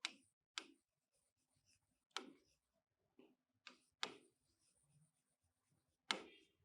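Pen writing on paper in short, sharp scratchy strokes separated by brief pauses, close and quiet, with no voice over it.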